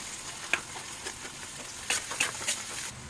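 Onions and cabbage fry in a hot pan for street-style egg fried rice, a steady close sizzle with scattered crackles and spatter pops, no talking.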